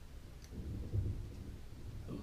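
Thunder rumbles low and soft in a thunderstorm in the video game Warriors of Japan, a faint distant roll swelling once around the middle, with light rain-like hiss overhead.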